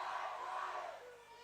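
At a roller derby bout, the crowd chants the Australian oi oi oi cheer in a short burst of massed voices. The chant fades away within about a second and is fairly faint overall.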